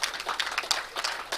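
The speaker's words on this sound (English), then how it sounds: "Can I have a huge round of applause" Faint, brief scattered hand-clapping from an audience at an inauguration ceremony for NIELIT centres, irregular claps with no voices over them.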